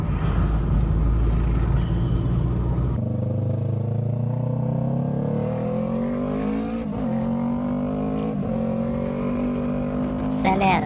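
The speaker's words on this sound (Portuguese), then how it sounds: "Acelera muito." A car revs hard and accelerates, its engine note climbing steadily in a loud, continuous roar after an initial rumble, with brief shifts between rises.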